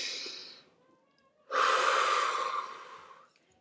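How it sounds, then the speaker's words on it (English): A deep breath drawn in and then let out slowly, close and clear, with a brief quiet gap between the inhale and the long exhale during a preschool circle time session. "Will you take a deep breath with me?"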